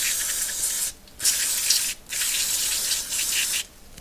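Brake cleaner spraying from an aerosol can while servicing a KTM 500 EXCF dirt bike: three loud, close hissing bursts of about a second each, separated by brief pauses.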